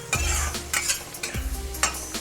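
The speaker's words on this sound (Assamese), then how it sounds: "এতিয়া মই আলুখিনি অকমান ভাজি লম" Potatoes frying in a pan over a high flame with turmeric, heard as a close, steady sizzle broken by several sharp scrapes and clinks of a utensil stirring against the pan, with no talking.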